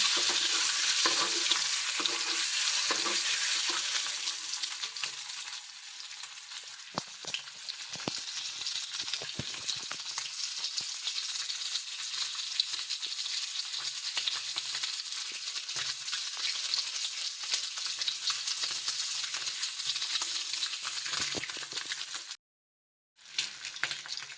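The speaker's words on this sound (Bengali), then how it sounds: "মাংস ভাজা হোক" Meat frying in a pan in a home kitchen gives a loud, continuous hiss and sizzle throughout, briefly cutting out near the end, with occasional stirring scrapes and no speech.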